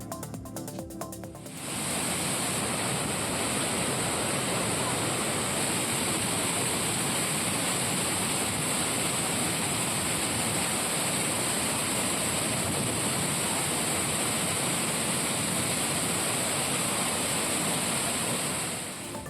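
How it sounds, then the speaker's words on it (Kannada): Sirimane Falls near Kigga, Sringeri, pours in heavy monsoon flow, a loud, steady roar of crashing water that starts abruptly and holds unbroken throughout, with no voices. "ಸಿರಿಮನೆ ಫಾಲ್ಸ್ ಧುಮ್ಮಿಕ್ಕಿ ಹರಿತಾ ಇದ್ದು"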